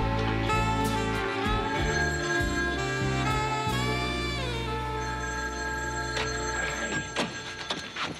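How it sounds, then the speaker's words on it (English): A telephone rings loudly in a home setting, a sustained electronic bell-like trill that repeats for several seconds before fading near the end, with no talk over it. "Answer the phone."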